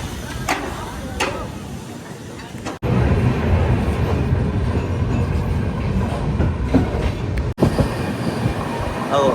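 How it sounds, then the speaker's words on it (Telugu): The Shatabdi Express from New Delhi to Kalka rumbles along the rails through a ghat section with a loud, steady roar and rhythmic clatter, heard from inside a carriage. "ఇక్కడ నుంచి ట్రైన్ అంతా ఘాట్ సెక్షన్లో పోతుంది"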